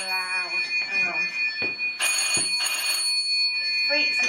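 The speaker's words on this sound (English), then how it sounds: "this phone is so loud" Home phone ringing loudly indoors, an electronic bell-like trill in two or three bursts over steady background with a voice talking beneath.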